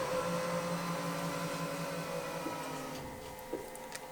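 A QATM Qpol XL automatic grinder/polisher starting its polishing step, a steady motor hum with faint tonal whine, gradually easing with a few small clicks and knocks toward the end, no talk.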